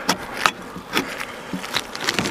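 Honeybees buzzing around a hive as it is opened after a captured swarm was installed, heard as a steady faint hum broken by louder close passes of individual bees, with no talk.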